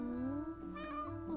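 A white kitty gives one drawn-out meow with a rising then falling pitch, close and clear over a low background hum.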